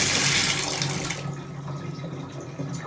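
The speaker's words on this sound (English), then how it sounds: "I'm gonna let that water drain first." Water drains out of a partly blocked bathroom sink with a loud gushing rush that cuts off suddenly, then settles into a quieter, steady trickle and gurgle.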